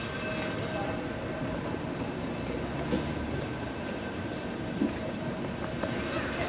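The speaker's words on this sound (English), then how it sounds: "just taking the tram to Fisherman's Wharf" Continuous low rumble and rattle of a San Francisco tram rolling along rails toward Fisherman's Wharf, with occasional soft clunks; steady and fairly close, no talking.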